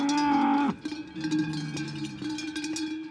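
Cows in the Saas-Fee area of the Alps give a loud, drawn-out moo that breaks off abruptly, followed by a jangle of cowbells and scuffling from the herd nearby.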